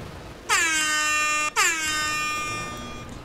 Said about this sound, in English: That, I think, calls for an air horn.